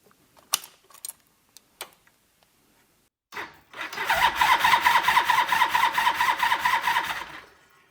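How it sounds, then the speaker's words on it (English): A motorcycle engine fitted with an Alton electric starter clicks and whirs briefly, then catches and runs with a steady, loud, close idle for a few seconds before cutting off. "a company in France called Alton that makes an electric starter for this engine"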